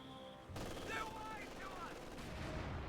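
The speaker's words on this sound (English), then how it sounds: "just to get wiped by the MG42" MG42 machine gun bursts in the strategy game Company of Heroes 2, a dense steady rattle of gunfire with battle noise filling most of the clip, starting abruptly after a brief quieter moment.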